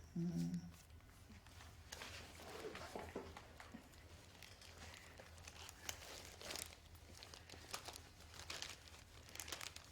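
An envelope being handled gives soft paper crinkling and rustling in a quiet room, with a brief louder rustle at the start and then gentle, intermittent crackles.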